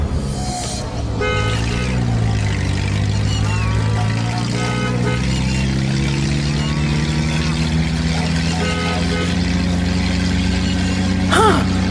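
A car engine, heard in a Hindi village moral-story cartoon, runs steadily and loudly throughout as the vehicle pulls away, with its pitch slowly climbing and a brief horn-like toot near the end.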